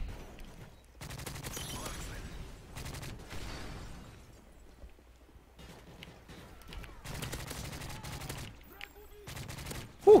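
Bursts of automatic gunfire from Call of Duty Modern Warfare 3 multiplayer, several loud sustained volleys separated by short pauses, with a sharp final shot at the end.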